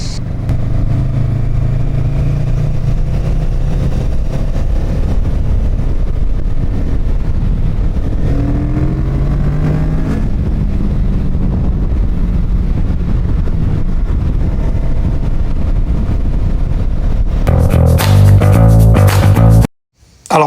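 A Kawasaki Z650 motorcycle hums steadily while being ridden, its engine note holding under strong wind rush, with a short burst of revving near the end before the sound cuts out abruptly.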